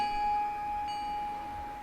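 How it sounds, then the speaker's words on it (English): Layered synthesizer bell parts ring softly and steadily, with faint shimmering overtones spread above them, fading gently. "Ethereal bell sound. That's what I'm after"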